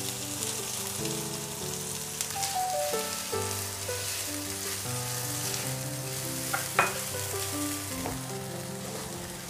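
Fresh grated coconut warming in a pan, a continuous soft sizzle with faint stirring scrapes and a light tap near the end, close and unbroken.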